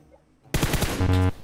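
Rapid automatic fire from a VSS rifle in a video game, a close, loud burst of quick shots that ends in a sustained tone, starting abruptly after a quiet moment.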